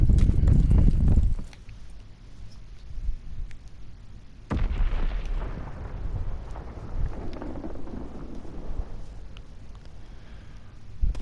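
Heavy artillery shelling in the World War II shooter Call of Duty WWII: a loud, booming blast opens, then fades into a low rumble before a second blast hits and rolls on through the rest of the clip.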